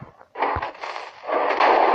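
A Minecraft TNT mortar cannon firing: loud, booming blasts of game explosion noise that roll together, growing heavier toward the end.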